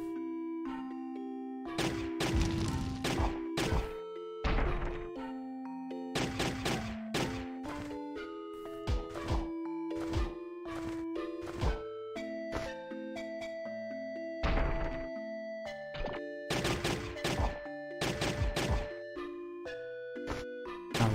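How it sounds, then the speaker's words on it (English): Lockpicking on a door in the video game Elona, heard as a string of bright chiming dings and clanks in irregular bursts with short pauses, clean game effects and no voice. "That's the sound of the lockpicking."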